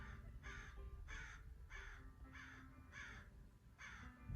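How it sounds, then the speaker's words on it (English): Several birds calling in a repeated series of harsh caws, about six evenly spaced calls, moderately distant over a quiet background. "Y'all hear my co-signing birds?"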